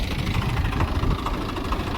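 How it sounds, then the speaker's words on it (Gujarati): A tractor engine runs while ploughing a farm field, a steady loud low rumble with knocking, vibrating throb close by, heard alone with no talk. "તમે આ આપણું ટ્રેક્ટર જોઈ શકો"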